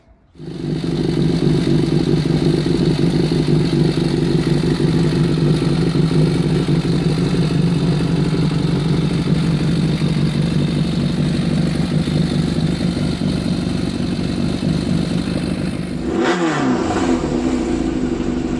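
A Kawasaki ZXR750 H1 motorcycle engine runs loud and steady at high revs for a long stretch, then briefly dips and picks back up near the end.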